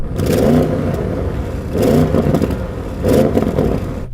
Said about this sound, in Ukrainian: як звучать наші двигуни, адже мій таки видає певний звук.